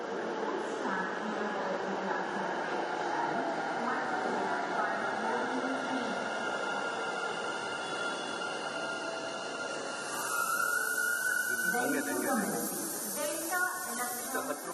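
A Namma Metro Yellow Line train in Bengaluru rumbles into the platform with a steady hiss and rising hum, brakes squealing faintly near the end as it draws up; voices murmur in the background.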